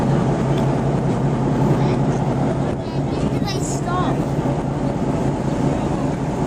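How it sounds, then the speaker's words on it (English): Exhaust from a historic power station at Palmerston North, running through mufflers: a steady, low, even rumble outdoors with a broad hiss, constant and fairly loud, with a brief voice-like chirp in the middle. "Thought I'd see what the exhaust sounded like, and it's pretty quiet actually."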